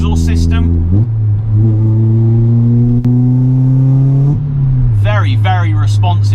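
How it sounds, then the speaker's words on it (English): A Ford Fiesta MK6 ST's naturally aspirated 2-litre engine revs loud and close through its exhaust, rising and holding a steady drone before the note drops back, with someone talking at both ends. "Very, very responsive from the naturally aspirated 2-litre engine. Fantastic note coming out the back from that exhaust system."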